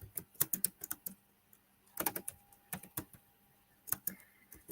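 Quick clusters of clicking keystrokes on a computer keyboard while writing a banner, irregular bursts of taps with short pauses between, close and fairly quiet.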